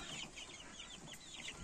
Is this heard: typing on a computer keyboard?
no